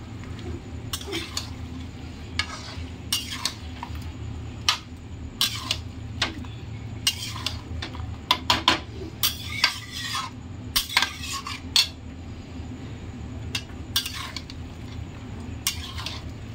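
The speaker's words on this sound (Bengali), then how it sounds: "এবারে ভালো করে বন্ধুরা কষিয়ে নেব।" Chicken and yogurt being stirred and scraped in a pan on a low gas flame, with repeated utensil scrapes and clinks over a soft steady sizzle, no talking.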